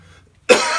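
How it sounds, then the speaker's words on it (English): A man with a cold gives a single sharp, loud cough after a brief quiet moment, close to the microphone. "Got a cough."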